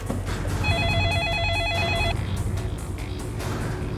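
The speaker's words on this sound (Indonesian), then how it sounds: "Roy langsung telepon Tante Naomi-nya aja ya." A telephone rings with a warbling electronic trill, one steady ring that lasts about a second and a half over a low background hum, then stops. No one speaks.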